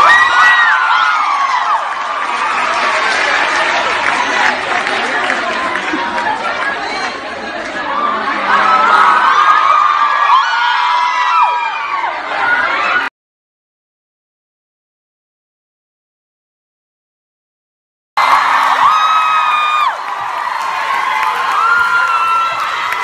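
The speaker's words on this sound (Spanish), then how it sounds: "Un aplauso" A concert audience at a year-end show at the Metropolitan cheers, whoops and chatters loudly and continuously. Children's shouts rise from the crowd, which cuts to silence for a few seconds before the same dense roar resumes.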